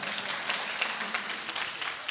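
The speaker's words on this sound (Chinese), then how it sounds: "给他一个掌声好不好？" A church congregation applauding during a Sunday worship service: a dense, steady patter of many hands clapping for about two seconds, fairly even in loudness throughout.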